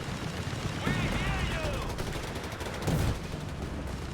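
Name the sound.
Vickers machine gun firing in Company of Heroes 3 video game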